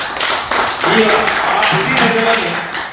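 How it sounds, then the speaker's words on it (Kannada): An audience claps at an event in a steady burst of applause under a speaking voice that continues throughout. "ತಂದೆ ಮಗ ಇಬ್ರು ಜೋರ ಚಪ್ಪಾಳೆ ಕೊಡಿ ಅವರಿಗೆ."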